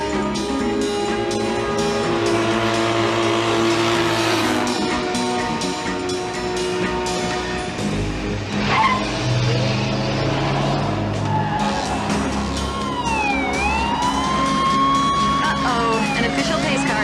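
Cars race flat out in a drag race, engines roaring continuously at close range with tires squealing and skidding over a steady, loud wall of motor noise.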